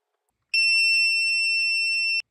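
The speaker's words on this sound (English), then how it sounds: "When you hear this alarm and error number 6 is displayed on the screen" A SpeedyBee FDQ battery discharger's low-voltage alarm: a loud, steady high-pitched electronic tone sounds continuously for nearly two seconds, then cuts off abruptly.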